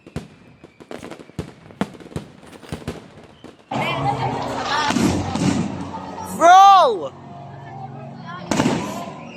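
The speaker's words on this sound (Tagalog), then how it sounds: "The moment I saw the fireworks, I immediately recorded this." Fireworks burst at night in a series of sharp, separate pops, followed by a denser crackling stretch with a rising whistle, fairly close and loud, with a person calling out briefly.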